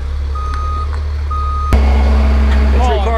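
Semi tractor-trailer backing up during a rollover recovery, its reversing alarm sounding loud, steady, evenly spaced beeps over a heavy diesel idle, with an air-brake hiss partway through.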